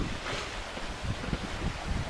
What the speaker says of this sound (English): So the wind did set in.